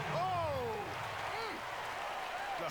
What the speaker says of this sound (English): the crowd goes crazy after seeing that finish